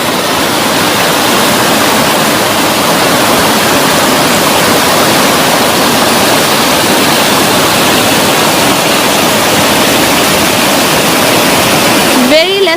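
A waterfall at Leimaram, Manipur, running with low water in the off season, a loud unbroken rushing roar, close and steady throughout, with a voice briefly audible near the end.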